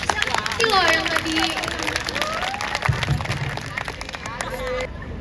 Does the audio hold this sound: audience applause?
yes